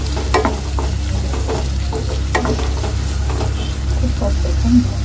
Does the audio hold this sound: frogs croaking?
no